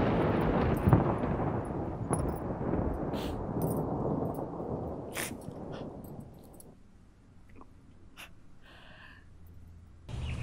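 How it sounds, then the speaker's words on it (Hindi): A storm rages outside a village home at night, with a steady roar of wind and rain and deep thunder-like rumbles through the first seven seconds, easing to a quieter hush with a few sharp crackles near the end. "बेटा देखो बाहर आंधी है ना,"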